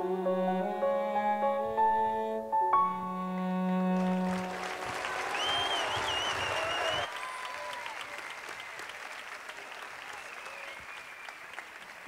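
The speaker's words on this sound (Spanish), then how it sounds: "Un aplauso para ellas" After a piano and cello performance at a town fair concert in Sabiote, the final sustained notes give way to a crowd's applause, which starts midway and continues as steady, moderately loud clapping to the end.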